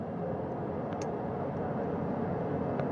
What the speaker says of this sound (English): That second helicopter now making its way back over to the front porch